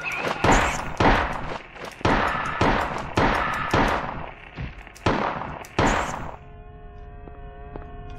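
Repeated gunfire in Silent Hill on the PlayStation 1, about eight loud, close shots in quick succession, each with a short reverberant tail, then a low electronic tone holds after the last shot.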